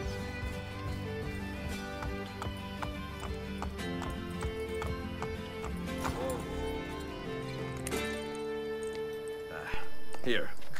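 Galloping horses in Assassin's Creed Brotherhood thud rapidly under game music and voices. The hoofbeats stay steady and mid-distance, and a horse whinnies near the end.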